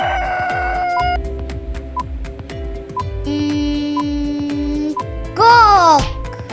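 A rooster crows loudly near the end, a rising and falling call over a busy bed of bright chiming tones and rhythmic beats, following a series of short repeated pings.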